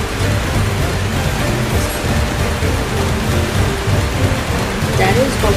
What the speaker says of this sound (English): We're in for some rain